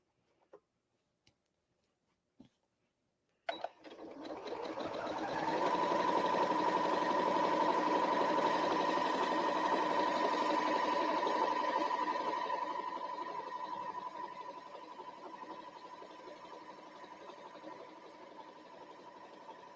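A sewing machine stitches a quilt with a steady, fairly quiet whir that starts after a few faint taps, holds for several seconds, then eases lower and continues.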